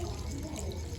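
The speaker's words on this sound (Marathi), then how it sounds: "चल थोडंसं पाणी टाकू दे." A little water is poured into a pot of cooking bean curry, a soft continuous splashing trickle heard close but faint, with no talking over it.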